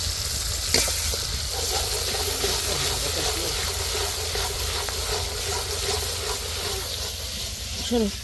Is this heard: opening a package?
no